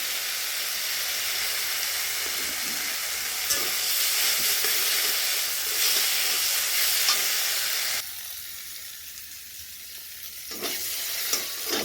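Nigella seeds sizzle in hot oil for a Bengali pumpkin-leaf paste, a loud, steady, close crackling hiss with occasional stirring clicks that softens noticeably toward the end.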